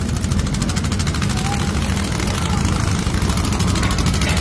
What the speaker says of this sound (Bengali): এই হচ্ছে একটা ট্রলার